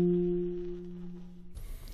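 A saxophone plays a soft subtone note, a breathy, steady low tone held about a second and a half before it cuts off into faint room noise.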